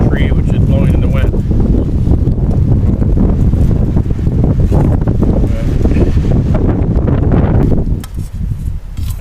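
Strong wind at a campsite blowing through a tree, heard as a loud, continuous rumbling roar of gusts buffeting the microphone, easing slightly near the end.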